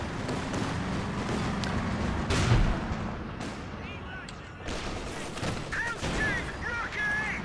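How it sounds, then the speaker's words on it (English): Heavy booming fire from an assault gun in Company of Heroes 2 crashes out over constant battle noise, one strong blast standing out among scattered shots while someone talks over it. "And I'm just waiting for that assault gun to fire its deadly payload."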